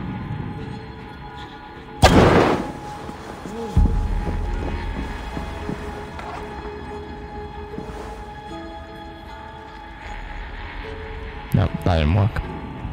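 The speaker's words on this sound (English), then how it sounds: "This little bomb thing." A bomb thrown in Assassin's Creed Valhalla goes off with a sudden loud thudding blast, followed by a second heavier thump and some later bangs, over rumbling game ambience.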